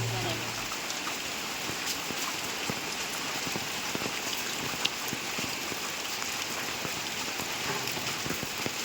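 Steady rain falls outside a building during a Sabarimala pilgrimage, a dense, even hiss of drops with scattered sharper patters across the whole stretch, moderately loud and without other sounds.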